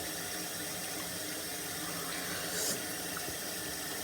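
Tap water runs steadily into a bathroom sink as a face is rinsed clean, a constant close splashing hiss with one brief brighter spatter partway through.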